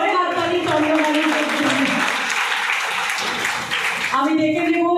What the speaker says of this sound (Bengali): জোরে হাততালি চন্দনা মিস